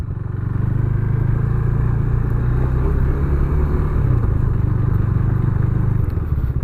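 A 2017 KTM 390 Duke motorcycle is ridden along a road, its single-cylinder engine droning steadily and close with a low rumble and slight surges, heard alone without talk.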